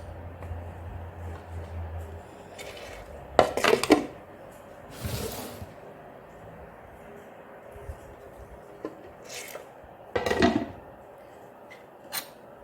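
A glass pickle bottle of homemade mango pickle is closed, a few short scraping and clinking bursts of the lid being handled and screwed on in a quiet kitchen, spaced apart.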